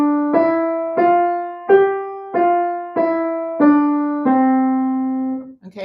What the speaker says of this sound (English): I'm just going to go up to the 5 notes of the scale and back down.